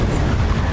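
A fiery Incendio spell cast in the Hogwarts Legacy video game, heard as a short, dense roaring burst of flame with a heavy low rumble that fills the whole moment, loud and steady with no voices.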